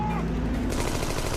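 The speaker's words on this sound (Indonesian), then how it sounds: "tiba-tiba mereka dikagetkan dengan tembakan yang menghancurkan pesawat itu" Gunfire in a 2021 war film trailer as shots bring down a German plane: a dense, loud burst of shooting, with a rapid crackling rattle filling the short moment.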